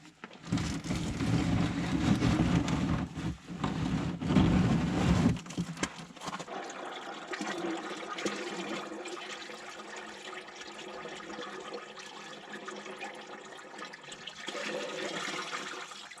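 Fluid drained from a 1969 Buick Riviera gushes into a bucket with a heavy splashing pour for about five seconds, then thins to a quieter, steady trickle.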